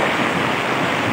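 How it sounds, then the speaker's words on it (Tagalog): Fast-rising floodwater during Typhoon Ulysses gives a loud, unbroken rushing roar, brief and steady, with wind noise blended in and no talking. "Ang bilis ng pag-akyat ng tubig."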